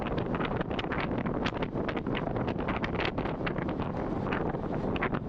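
Strong wind batters the microphone during a bicycle race, a loud continuous roaring buffet with gusty fluctuations throughout and no clear voices.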